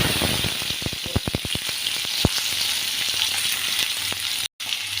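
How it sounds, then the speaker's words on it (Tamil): Oil sizzles loudly as onions, tomatoes, dried red chillies and curry leaves fry, with a burst of sharp crackles and pops early on, then a steady hiss before a brief cutoff. "நல்லா வறுத்துக்கலாம்."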